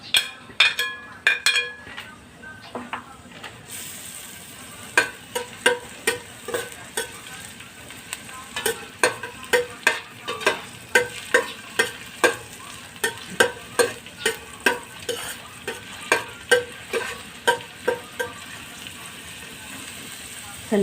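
Onions sautéing in oil for Bicolano-style chicken curry: after a few opening clatters, a rapid run of close spoon scrapes and clinks against the pan rides over a soft sizzle, with no voices.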